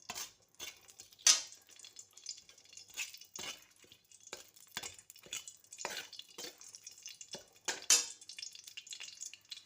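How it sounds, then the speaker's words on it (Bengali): Cardamom pieces and cut bay leaves fry in oil in a wok, with a quiet crackle broken by scattered sharp pops and a few clinks of a utensil, close up and without speech. "তেল দিয়ে 4টে এলাচের টুকরো এলাচ দিয়ে দিলাম আর 2টো তেজপাতা কেটে দিলাম।"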